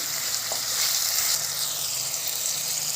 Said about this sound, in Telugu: ఉల్లిపాయ టమోటా వేగనిద్దాం బాగా మెత్తగా వేగిని